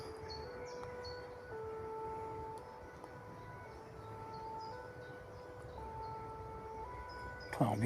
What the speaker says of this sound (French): L'ambulance, on l'entend, c'est un truc de malade.